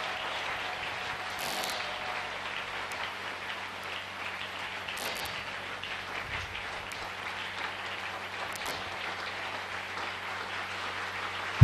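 Church congregation applauding steadily throughout, a dense continuous patter of many hands at moderate distance, with no clear talk over it.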